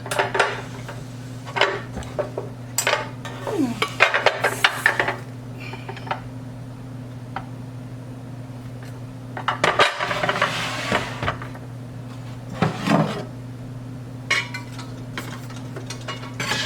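Metal pots, pans and lids clank and clatter in irregular bursts as cookware is shifted around inside a kitchen cabinet, close and fairly loud, with quiet pauses between the knocks.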